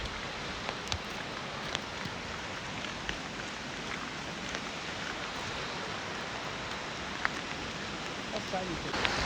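Steady rain hisses all around in Lauterbrunnen, Switzerland, near the mountainside, with scattered drops tapping nearby surfaces, continuous and fairly loud throughout.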